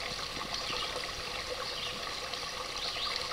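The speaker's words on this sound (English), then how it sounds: "The sound of Governor Brook trickling into Colpitt Lake" Governor Brook trickling into Colpitt Lake, a soft, steady babble of running water heard faintly and continuously at a slight distance, with no voices.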